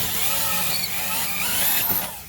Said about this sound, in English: I'm gonna use this thing right here on my drill and make the hole bigger.